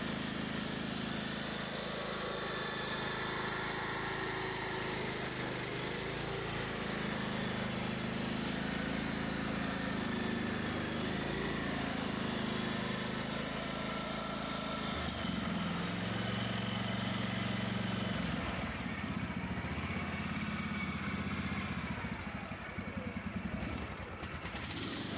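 A Kohler-powered lawn tractor engine runs steadily on its new carburetor, a loud, close, continuous droning idle with small shifts in pitch partway through and no voices over it.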